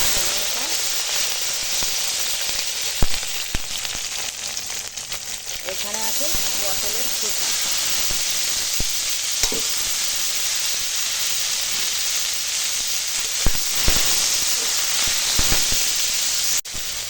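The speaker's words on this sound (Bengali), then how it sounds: "এখন কড়াতে অল্প করে তেল দিয়েছি আর দিয়ে দিলাম কালো জিরে আর এখানে আছে রসুন" Black cumin seeds and garlic fry in a little oil in a kadai, giving a steady, fairly loud hiss and sizzle that runs throughout, with a few brief clatters and faint crackles over it.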